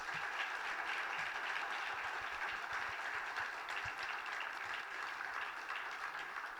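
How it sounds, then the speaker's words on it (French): An audience at an evening event at the Riom fire station claps steadily and warmly for several seconds, a dense, even patter of many hands without pauses. "je crois qu'on peut applaudir toutes ces personnes"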